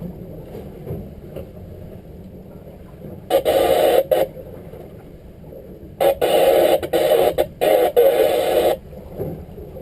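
VHF marine radio on channel 27 aboard a sailing yacht gives several short, loud bursts of transmission against a quiet background of wind and water.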